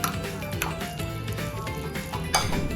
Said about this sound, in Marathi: हे चांगलं मिक्स करून घेऊया.